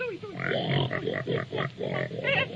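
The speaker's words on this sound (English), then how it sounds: "Come on and bring your pig" A pig in a Disney Mickey Mouse cartoon grunts in a rhythmic string of snorty oinks over a steady noisy background, lasting a couple of seconds.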